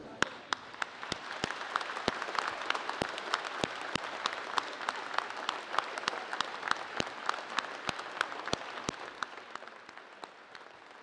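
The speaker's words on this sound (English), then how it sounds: "Please join me in a round of applause." Sustained applause from an audience at a junior high school Veterans Day program honoring veterans, dense clapping with sharp individual claps standing out, steady and full throughout.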